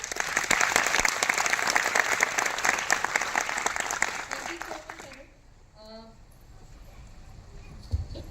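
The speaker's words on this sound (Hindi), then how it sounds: "एक जोरदार ताली हो सकती है।" An audience at a meeting claps in a burst of dense, steady applause lasting about five seconds, then fades out into quiet with a few faint sounds and a soft thump near the end.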